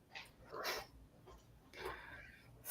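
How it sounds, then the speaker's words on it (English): A dog makes short barking or whimpering sounds in a couple of quick bursts at close range, in an otherwise quiet indoor setting. "hear a doggy"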